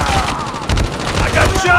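Rapid automatic gunfire in a Call of Duty match on the Shipment map, loud, dense and continuous, with game voice lines underneath.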